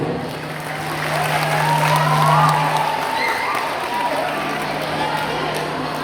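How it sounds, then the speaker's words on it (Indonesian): An audience at a school choir performance by SMPN 2 Kota Bogor claps and cheers in a steady, sustained wash of applause, with crowd voices mixed in and a faint sustained tone underneath. "berikan tepuk tangan yang meriah"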